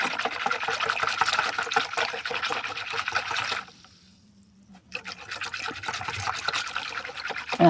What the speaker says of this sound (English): And this we just pour over it and on the sides of the meatloaf.